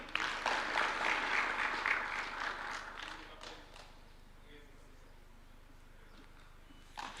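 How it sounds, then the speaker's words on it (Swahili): Crowd applause fills a State House gathering in Kenya where President Ruto hosts the Migori Youth FC football team; dense clapping runs loud for about three seconds, then fades to a quiet murmur, with a brief burst near the end. "Makofi kwake tena tafadhali."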